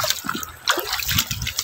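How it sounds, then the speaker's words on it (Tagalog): Strong rushing water pouring and splashing outdoors over earthen ground, a dense steady wash of noise filling the whole moment without pause. "Bumuhos yung lakas ng tubig."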